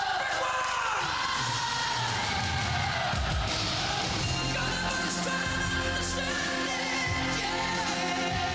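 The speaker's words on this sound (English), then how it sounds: "Listen to that crowd." Concert crowd cheering and yelling at a show, heard as a dense, loud, continuous roar blended with music throughout.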